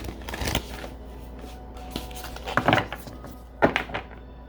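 Astrology cards being shuffled by hand, with soft papery riffles and a few sharper slaps and knocks in separate bursts, close up and fairly quiet with no talk.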